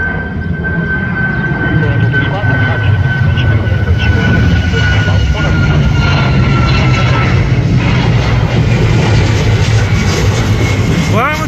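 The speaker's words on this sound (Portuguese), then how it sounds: "Arremetida em cima do aeroporto aqui de Joinville." Boeing 737 Max jet aborting its landing and going around over Joinville airport, a loud sustained engine roar that builds and holds throughout, with people talking over it.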